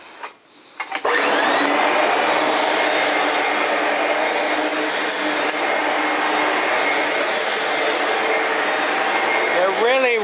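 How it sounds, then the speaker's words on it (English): A loud upright vacuum cleaner with a bag and carpet brush switches on after a brief click and runs steadily with a harsh, whining motor roar close by, no talk over it. "Just imagine how bad this vacuum would work if we didn't have the racing stripes on the bag."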